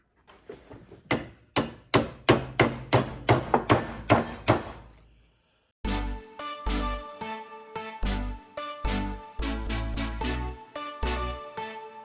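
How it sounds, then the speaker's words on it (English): Sharp metallic hammer strikes on a punch driving a power steering housing bushing on a 2005-2009 Subaru Legacy, about a dozen ringing blows, a pause, then another run of heavy strikes, close and loud. "you're going to hammer that bushing back so you can get that housing"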